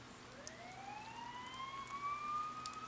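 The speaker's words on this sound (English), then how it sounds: "You hear sirens nearby." A police siren in the video game Persona 4 Golden wails faintly from a distance, its tone rising slowly, over a soft patter like rain.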